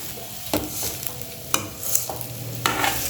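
A spoon stirs red poha upma in a pan, scraping and tapping the pan with faint sizzling underneath, close and steady with no voices.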